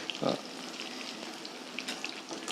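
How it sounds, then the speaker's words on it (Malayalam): Chicken pakoda deep frying in hot oil produces a continuous, dense crackling sizzle that stays steady and fairly close, with one brief louder bubbling burst near the start. "എണ്ണയിൽ കിടന്ന് ഇങ്ങനെ നന്നായിട്ടൊന്ന് മുരിഞ്ഞു വരട്ടെ"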